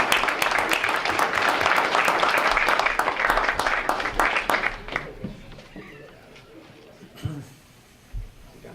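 At a school board meeting, the audience applauds the athletes' parents with a loud burst of many hands clapping that fades out after about five seconds, followed by quieter room noise and scattered voices.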